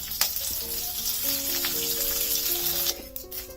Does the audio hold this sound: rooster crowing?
no